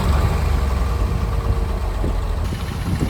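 A warmed-up 1965 Mercedes-Benz 230SL engine idles close by, a steady low, even rumble that holds constant with no speech.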